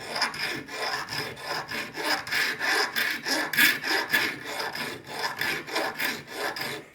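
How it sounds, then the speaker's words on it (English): A large file rasps back and forth across a metal part of a Gresley A4 0 gauge model locomotive kit, a close, even rhythm of roughly two strokes per second with no talk. "I'll give it a go with this big file first"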